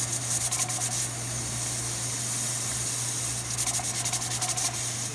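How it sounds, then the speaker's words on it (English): A pressure canner's weighted regulator jiggles and hisses steam at 15 pounds of pressure while venison and chicken are canned, giving bursts of rapid rattling near the start and end over a steady hiss and hum. "You hear that jiggle? It means there's 15 pounds of pressure in there,"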